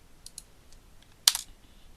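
Keyboard keys tapped while a username and password are entered on a computer: a few sparse light clicks, then a sharper cluster of keystrokes near the end, quiet and close with no talking.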